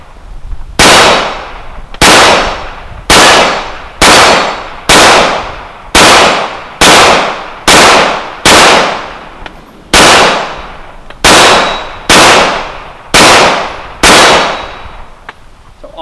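A 1911 pistol fitted with an extended stick magazine fires about fifteen loud, sharp shots in a steady, evenly spaced string, each crack ringing out with a short decaying tail.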